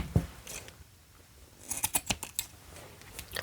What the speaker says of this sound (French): Donc je coupe au plus près possible de la couture.